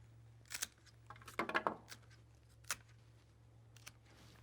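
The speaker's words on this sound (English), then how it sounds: "Our next step is to cut them off so that they're flat across the bottom." Reclaimed flower stems being trimmed flat across the bottom for a hand-tied wedding bouquet: a few crisp, close snips and clicks of shears in a quiet room.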